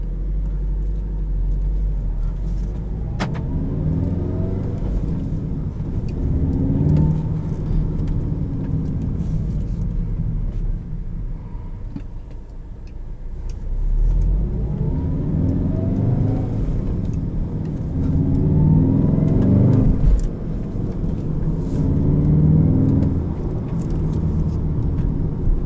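A 2017 Volkswagen Golf R with a six-speed manual, nearly 300 horsepower, drives on an open road, its engine droning steadily with low rumble and swelling in broad surges as it pulls through the gears, no voices over it.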